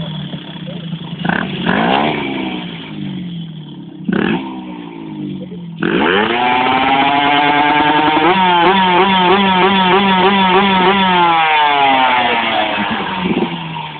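A motorcycle engine revs during a test ride, rising and falling in pitch through several throttle blips before holding a strained, buzzing high rev, loud and close with a voice heard briefly.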